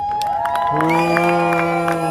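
A crowd of arriving supporters cheers and whoops at a Destination Dignity gathering, loud and close, with a sustained tonal horn-like blare layered over the noise.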